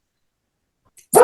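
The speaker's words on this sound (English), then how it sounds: "Please excuse my dog in the background again." A household dog barks in the background, one short loud burst at the very end after near silence.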